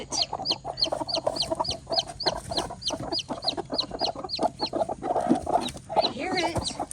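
A baby chick in a chicken coop gives a rapid string of high, thin peeps, with clucking hens and other farm-bird noise underneath and some rustling close by.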